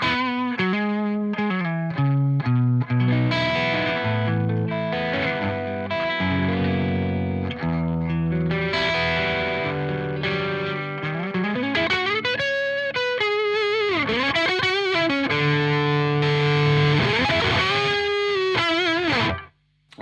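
Electric guitar played through a Sonicake Trio Rider Klon clone overdrive pedal with the guitar volume rolled back slightly, giving a continuous lightly driven riff with bends and chords, loud and alone until a sudden stop.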